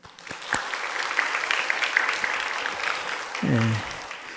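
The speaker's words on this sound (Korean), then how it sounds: "우리 박수 한번 좀." A crowd claps together in sustained applause at a Sunday afternoon church service, with a brief voice cutting in near the end.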